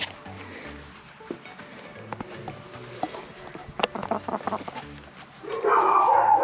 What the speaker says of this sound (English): These chickens do the craziest stuff.